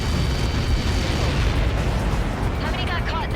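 In Ace Combat 7, a huge blast hits on impact, a loud, sustained roaring boom that rumbles on as debris bursts and crackles. Near the end, radio chatter starts over the fading roar.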